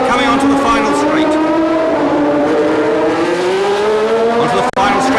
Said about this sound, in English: There's the Ferrari coming onto the final straight.